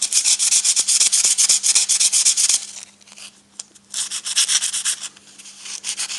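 Abrasive emery cloth scrubs a cast iron manifold in fast, loud back-and-forth strokes up close, pausing briefly before a second run of rasping rubs.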